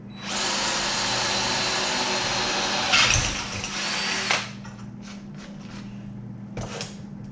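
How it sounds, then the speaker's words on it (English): A power drill bores a hole through a steel trap base plate held in a vise, a steady high whine for about four seconds before winding down, followed by faint clanks of handling. "I'm going to drill that hole out."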